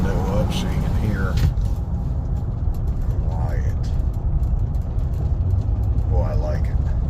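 A Chevy 5.3 V8 with a full AFM delete and new cam bearings runs smoothly while driving, a steady low engine and road rumble heard from inside the cab, with someone talking over it.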